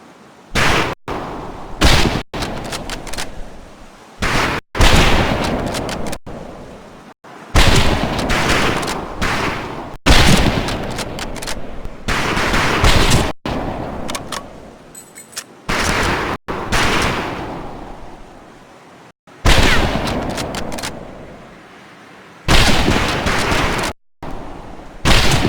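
Rifle gunfire on a boot camp firing range in Medal of Honor: Pacific Assault rings out in loud, close sharp shots and rapid bursts, separated by brief silent gaps.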